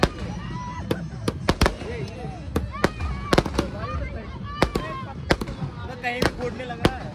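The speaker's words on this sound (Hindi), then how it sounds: "स्काई शॉट हमने लिया था मतलब उसका पैसा वसूल हो गया पूरा मतलब बढ़िया से चल रहा है" Sky shot fireworks bursting outdoors during a Chhath Puja celebration, a rapid irregular string of sharp loud pops and cracks over several seconds, with people talking and shouting in the background.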